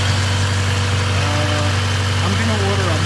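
A 1996–2000 Honda Civic Si with a B16 engine, stock headers, Spec-D exhaust and high-flow catalytic converter, idling with a steady, close, deep drone throughout.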